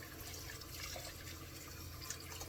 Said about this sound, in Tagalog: and then lagyan ng tubig